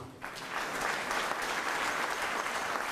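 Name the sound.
audience applause and cheer at store launch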